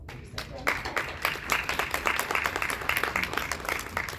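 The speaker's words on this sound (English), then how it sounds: "Clap for yourselves." Graduates applaud themselves at an online school commencement, a steady wash of clapping that carries on for several seconds at moderate distance, fairly faint with a little voice underneath.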